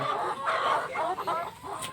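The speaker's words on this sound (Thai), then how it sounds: "อันนี้เป็นแม่พันธุ์ไก่รส ไก่รสแดงนะครับ เป็นแม่พันธุ์ สามสิบกว่าตัว" A flock of over thirty Rhode Island Red breeder hens clucks in short, close bursts over a low background murmur.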